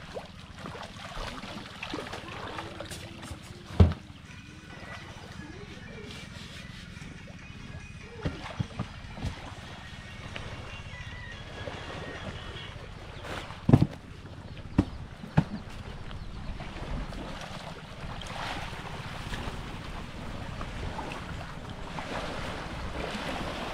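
A small fishing boat's engine drones on open sea with wind buffeting the microphone and waves washing around, broken by a few sharp knocks, continuous throughout.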